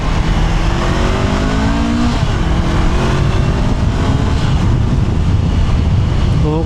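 A 2026 Honda CB650R E-Clutch motorcycle pulls hard in third gear while being ridden, its engine note rising steadily under heavy wind rush, loud and close throughout.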